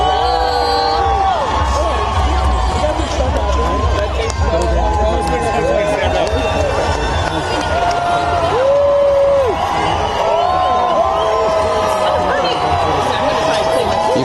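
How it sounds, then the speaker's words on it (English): Crowd cheering and shouting at a New York City inauguration block party outside City Hall, dense and loud throughout with rising whoops and yells, voices chattering under the roar. "People cheering."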